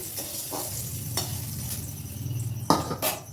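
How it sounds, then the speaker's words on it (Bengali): Capsicum is stir-fried in a wok, giving a continuous close sizzle with repeated scrapes and knocks of a spoon against the pan, and one sharper clatter near the end; nobody speaks. "তো আমি এটা একটু কষে ভেজে নিলাম"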